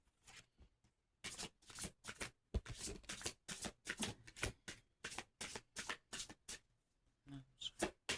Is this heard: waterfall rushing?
no